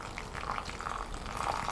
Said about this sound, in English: using the pour over, I am going to start by pouring a little bit of the water, hot water there.